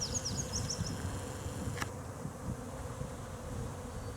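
Honey bees swarm around a busy, well-populated hive, making a steady close buzz with a few brighter whines as individual bees pass nearby. No one speaks.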